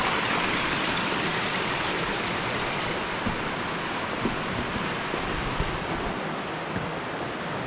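Steady rushing of an underground river running through a humid cave, a constant broadband water roar with a few faint ticks and splashes scattered over it.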